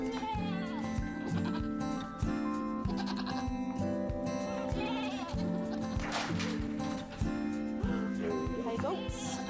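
Goats bleat several times amid soft, steady background music, with their wavering cries rising near the middle and again toward the end.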